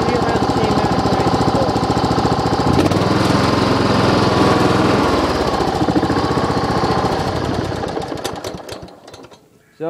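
A Kohler small engine running, a loud close chugging drone with a rapid steady beat that shifts in tone partway through and fades toward the end.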